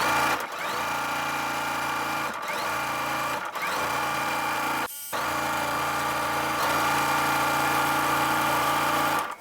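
Sewing machine stitching pinned quilt block pieces for a basket block, a steady loud motor whir running throughout with a few brief pauses and one short stop midway.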